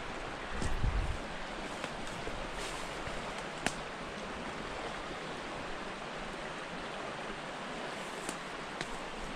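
A swollen river running high on a fall day, its flow a steady broadband rush with no breaks, heard from the bank at moderate level, with a brief low thump near the start.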